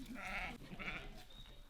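Sheep in a big flock grazing near the town of Suchitoto, El Salvador, give two or three faint, wavering bleats in quick succession over soft outdoor background noise, with no talk.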